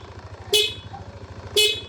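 Two short horn beeps from a Yamaha NMAX scooter, close and fairly loud, spaced about a second apart over a low idling engine hum.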